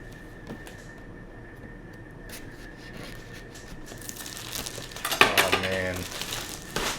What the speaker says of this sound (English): let's get this knife back out, and let's rip this plastic off of here